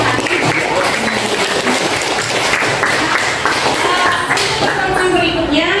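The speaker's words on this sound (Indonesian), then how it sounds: "Beri tepuk tangan untuk pembelajaran kita hari ini." Classroom applause from students at the end of a history lesson, busy mixed clapping and thumps with room noise and some voices underneath, fairly close and loud.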